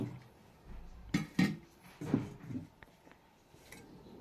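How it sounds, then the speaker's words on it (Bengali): A few clanks and metallic knocks as a kadai is set onto a kitchen stove after a pot of milk is taken off, scattered thuds over a quiet background. "দুধটাকে নামিয়ে নিয়ে আমি আরেকটি কড়াই চাপিয়ে দিচ্ছি।"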